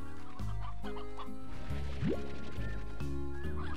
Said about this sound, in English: I want chickens. Show me the chickens.